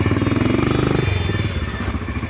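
Running engine of a KTM motorcycle weighing 111 kg, loud and close with a fast steady pulsing idle that drops slightly in pitch partway through.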